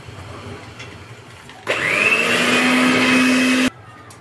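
An electric hand mixer whips cake batter for a semolina revani dessert, a steady loud whir starting abruptly and running about two seconds before cutting off, alone with no talk.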